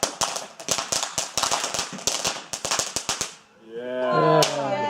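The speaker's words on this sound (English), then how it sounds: "Snap, crackle and popping" Family backyard fireworks crackle and pop in a rapid string of sharp snaps for several seconds, then give way to a whistling, fizzing effect as people talk and react nearby.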